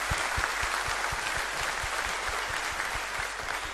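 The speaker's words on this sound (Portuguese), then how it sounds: "Aplaudi ao Senhor Jesus." Congregation at a church ministers' gathering applauding in a steady rhythmic beat, many hands clapping together in time, with a dense wash of crowd noise and distant voices.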